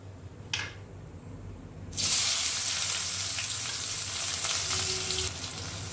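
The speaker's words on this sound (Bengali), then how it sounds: "গ্যাসের ফ্লেমটাকে মিডিয়ামে রেখে পেঁয়াজগুলো একটু লাল লাল করে ভেজে নেব" Chopped onions dropped into hot oil in a pan for egg curry, a sudden loud sizzle that holds steady and hissing for several seconds after a brief quieter moment.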